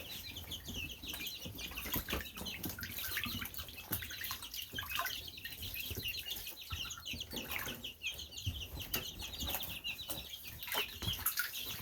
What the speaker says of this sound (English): I love the peeping sounds.